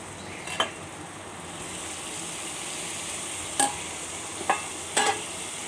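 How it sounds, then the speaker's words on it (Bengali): Boiled vegetables being stirred into semolina upma in a pan: a low continuous sizzle broken by a few sharp scrapes and knocks of the spoon against the metal. "এবার আমি নাড়তে থাকছি।"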